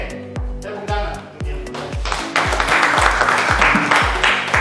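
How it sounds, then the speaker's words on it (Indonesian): Students clap in a classroom after the teacher's prompt, building from scattered claps into fuller applause, with rhythmic low thuds and some voices underneath. "Oke, tepuk tangan."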